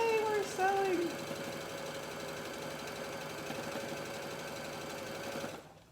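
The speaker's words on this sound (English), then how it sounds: "we're gonna start sewing" Sewing machine stitching a striped quilt top runs as a steady, continuous mechanical hum, while a cheerful voice talks over the opening second.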